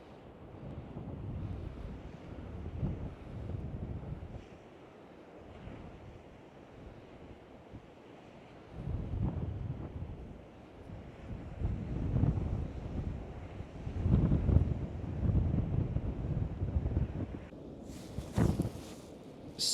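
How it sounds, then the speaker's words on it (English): Strong wind buffeting the microphone on a beach in Wales, with surf surging in rolling gusts, loud and close, and a brief hissing burst near the end. "So windy"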